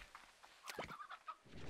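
A few quick, faint chicken clucks from Slime Rancher 2 in a brief burst, quiet and slightly distant, with no voices.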